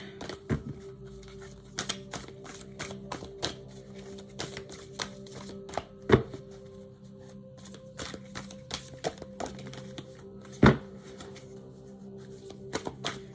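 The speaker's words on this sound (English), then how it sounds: "let's start shuffling." Tarot cards are shuffled steadily by hand, a soft rapid patter of flicks and taps with occasional louder knocks, close and quiet.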